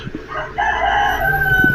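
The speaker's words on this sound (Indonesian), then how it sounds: "Ayam berkokok, tanda sudah pagi." A rooster crows once, close and loud, a drawn-out strained cock-a-doodle-doo with a rising then sustained tone, framed by brief clucks and rustling.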